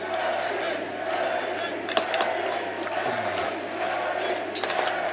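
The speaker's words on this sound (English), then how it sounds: "The crowd chanting my name like that would really get my adrenaline pumped." An arena crowd at a strongman event chants Eddie Hall's name, a steady rhythmic roar of many voices at middle distance, lasting throughout with a few scattered claps and shouts.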